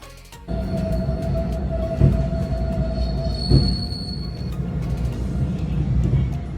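Rack train climbing the tracks toward Montserrat near Barcelona, a steady rumbling roll with sustained wheel squeals and tonal whines, heard from inside the carriage.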